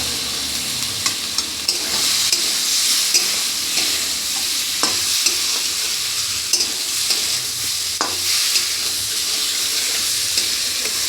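Boiled potatoes and drumsticks stirred into a sizzling spice mix in a pan, a steady loud frying hiss broken by scraping stirs, with no voices.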